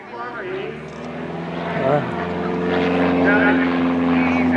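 A World War I airplane engine drones loud and rough overhead at an airshow, its pitch wavering and rising as it passes; people talk close by over it.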